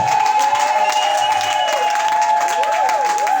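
A church congregation at a Sunday service in Oyo applauds and cheers loudly and steadily, a dense wash of clapping and voices with sustained musical tones ringing underneath.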